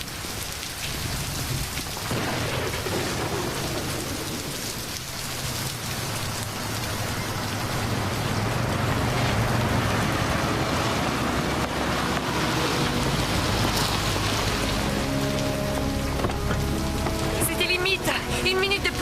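Heavy rain pours down in a thunderstorm, a dense continuous roar of rainfall that grows louder partway through, with deep rumbles of thunder underneath and faint tonal sounds near the end.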